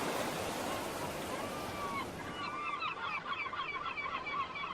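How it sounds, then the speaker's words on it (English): Strong wind drives waves across a wide lake basin in a steady wash, while gull calls rise clearly over it in the second half. "Strong winds whip across the wide lake basin, stirring up waves."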